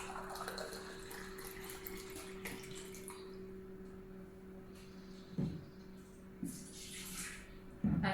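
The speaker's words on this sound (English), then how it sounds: "Let's add some water." Water pours into a Laikeda electric thermo pot, a steady close splashing fill over a constant low electrical hum, with a few brief clunks near the end.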